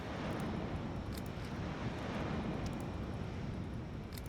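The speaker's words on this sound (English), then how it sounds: "We need to get some planes in the air." Aircraft engines roar as planes take off in the video game Highfleet, a loud, steady, unbroken rumble that holds throughout with no voices.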